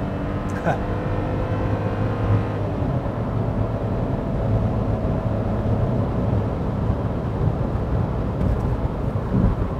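Three-cylinder engine of a 2022 Hyundai Casper small SUV running during a night drive, a steady low drone with continuous road rumble throughout, heard from inside the cabin.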